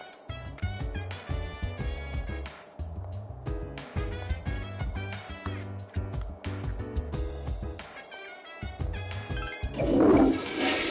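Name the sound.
toilet flush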